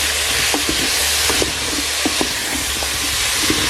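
Onions and couscous spices sizzle steadily in a frying pan while a spoon stirs them, giving a constant hiss broken by several soft scraping knocks against the pan.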